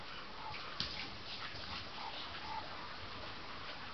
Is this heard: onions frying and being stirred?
no